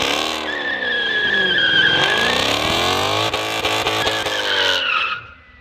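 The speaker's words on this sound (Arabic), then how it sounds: "العربية كل عربية بتخش هنا" Dodge race cars at the Dirab Park track screech through a skid, a loud tire squeal with a revving engine close by that sweeps and wavers for several seconds before fading out.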